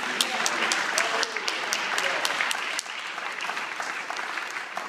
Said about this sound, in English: Can we just clap our hands one more time?